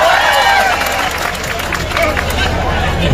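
A protest crowd applauds loudly and steadily for a speaker, dense clapping with some cheering and murmured talk running throughout.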